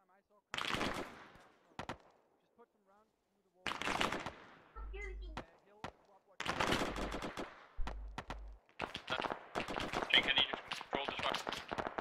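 Bursts of automatic and single-shot gunfire from an Arma 3 infantry battle, loud and close, coming in several separate volleys with short gaps, while radio voices talk over the fighting.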